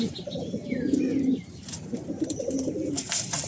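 A laden female pigeon coos in low, repeated rolling phrases, close and fairly steady, with faint chirps of other birds higher up in the background.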